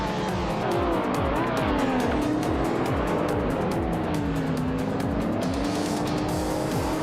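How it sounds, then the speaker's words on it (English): A 1990 Lotus Carlton retro street car races in a video game, engine droning loudly and steadily with rising and falling revs, tyres squealing through corners and dense rhythmic engine pulses throughout. "Gabby the Minimac is driving a 1990 Lotus Carlton, a retro street car"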